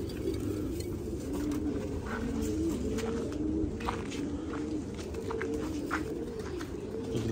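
Basra pigeons cooing nearby, repeated soft throaty coos layered over a steady background hum, with faint rustling and no talk.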